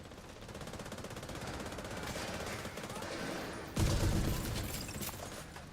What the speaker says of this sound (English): This shotgun with the fire rate buff from overdrive and the fire rate buff from the holster.